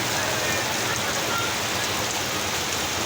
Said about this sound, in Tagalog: umaalon yung agos ng tubig